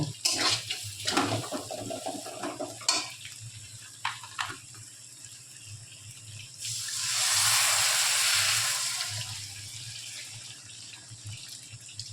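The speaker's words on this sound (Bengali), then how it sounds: "এবারে জলটা দিয়ে দেবো।" Water poured into a pan of fried lentils (prawn dal), a steady rushing pour of a few seconds after soft kitchen clatter and low background hum, no talking.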